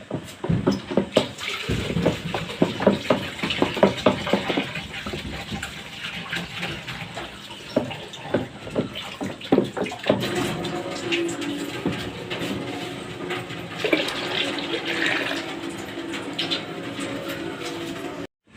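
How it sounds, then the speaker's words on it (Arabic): Blended sobia drink is poured into a bucket, a continuous splashing gush of liquid with stirring knocks early on, loud and close, turning to a smoother steady pour in the second half. "نصب بقى الصوبيا اللي احنا ضربناها في الخلاط"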